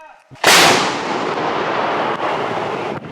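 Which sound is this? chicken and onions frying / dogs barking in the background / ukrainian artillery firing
ukrainian artillery firing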